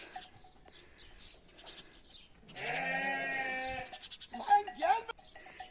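Sheep bleating from a flock being brought back from grazing at a rural family farm during a holiday, several calls rising in the middle and near the end, with people talking around them.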